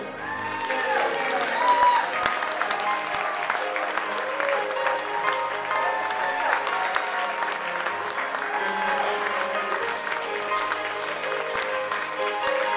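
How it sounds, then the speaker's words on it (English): Wedding guests at a country club reception applauding the bride's grandparents, steady crowd clapping with some cheering over faint background music, held at moderate loudness throughout. "Ladies and gentlemen, having a big round of applause for our grandparents of the bride, Mr. and Mrs. Joseph LaCroix."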